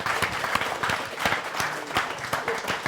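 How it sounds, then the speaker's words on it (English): An audience at a panel discussion applauds a speaker, a brief, dense burst of many hands clapping at moderate distance. "Let's go ahead and give him a round of applause."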